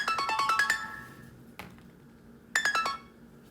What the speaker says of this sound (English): Alarm in my phone, sorry.